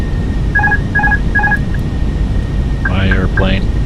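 A Fenix A320 autopilot disconnect warning in Microsoft Flight Simulator sounds as three quick two-tone chimes over steady cockpit engine hum, followed by someone speaking.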